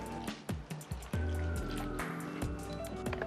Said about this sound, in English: Pour the red wine over.